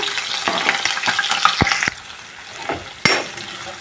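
Sliced onions and green chillies sizzling in hot oil in a pan while being stirred, a loud continuous fry with a few sharp scraping and clinking spoon strokes against the pan.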